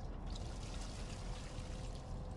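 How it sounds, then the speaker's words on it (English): Toilet flush in the train-travel video game Train Depart: a continuous rushing, pouring water sound, steady and fairly loud, with no talking. "I didn't come up with nothing better than to flush it"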